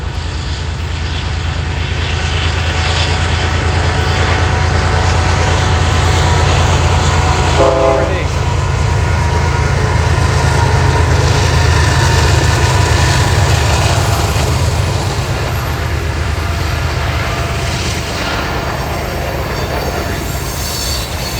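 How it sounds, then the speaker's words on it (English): A train rolls past a Civil War battlefield site near Slaughter Pen Farm, a loud sustained low rumble of railcars with wheel squeal and clatter building over about twenty seconds, with no talk. "the train's about to ride by, so I'll have to pause while it goes on by"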